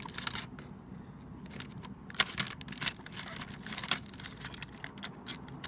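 Car keys from a childhood key collection, including Porsche, Volkswagen and Renault keys, jangle and clink in hand, quiet and close, in scattered metallic rattles with small clicks.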